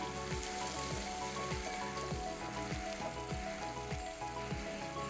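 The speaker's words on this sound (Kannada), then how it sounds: "ಸ್ವಲ್ಪ ಎಣ್ಣೆಲಿ ಫ್ರೈ ಆಗಲದು" Curry leaves and green chillies fry in hot oil for upma, giving a continuous crackling sizzle with a regular series of soft stirring knocks beneath it.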